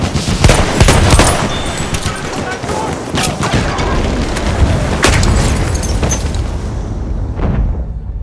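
Heavy gunfire and booming blasts fill a Battlefield 1 Rush battle at River Somme, with dense rattling shots and a grenade explosion mixed under shouting voices, loud and continuous.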